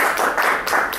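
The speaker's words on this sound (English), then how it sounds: "You can clap, it's okay if you'd like to clap." Audience applause at a trade-show solution spotlight session, a dense steady wash of many hands clapping close by for about a second, with no voices over it.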